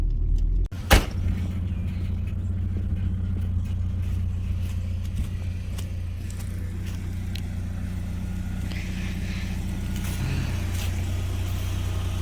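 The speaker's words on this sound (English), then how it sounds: "Hey, car." A car travels along a road beside an urban cemetery, heard as a steady low engine rumble with a short thump near the start, constant and unvaried throughout, no one speaking.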